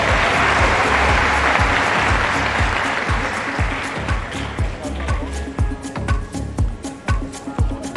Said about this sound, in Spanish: Un aplauso para la señorita Nicaragua.